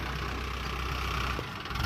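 A tractor engine idles steadily at a riverside mining site in Rampur, a continuous low rumble with a slight knock, close and alone with no voices.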